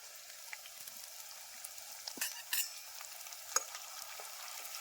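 Boiled peas, pigeon peas and papdi are stirred in a pan with garlic for Surti undhiyu, giving a soft, steady sizzle with a few scraping clicks of the spoon, close and alone without voices.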